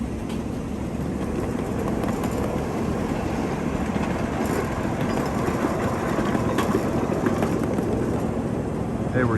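A 7.5-inch gauge miniature steam train runs along its rails, giving a steady close rumble with faint clickety-clack that holds for the whole stretch without a break.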